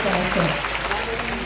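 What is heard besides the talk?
audience applause for the Chief Minister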